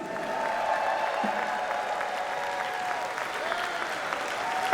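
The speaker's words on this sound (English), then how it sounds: "Big applause, Dingo Roo!" Audience applause at a convention opening ceremony: dense, sustained clapping from a large crowd, steady and loud throughout about five seconds, with faint crowd voices mixed in.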